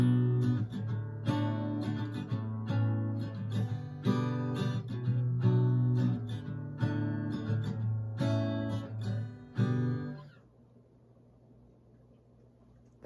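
Chords are strummed in a steady rhythm for about ten seconds, ringing full and close, then stop, leaving a faint hiss of room noise.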